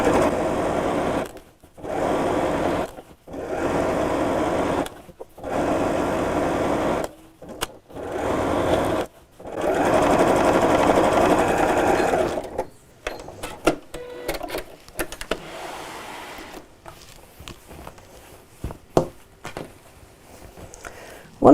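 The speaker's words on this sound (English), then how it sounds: "literally sew all the way around the top" A sewing machine top stitches around the top of a quilted tote bag with a long stitch, running in several close bursts separated by short stops, followed by quieter handling clicks and rustles.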